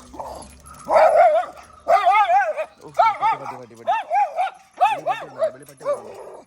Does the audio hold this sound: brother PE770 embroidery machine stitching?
no